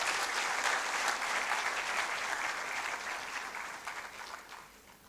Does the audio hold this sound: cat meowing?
no